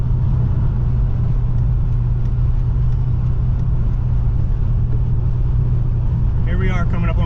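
A car speeding at about 80 mph through a 45 zone, its engine and road roar steady and loud from inside the vehicle throughout, with a brief voice near the end.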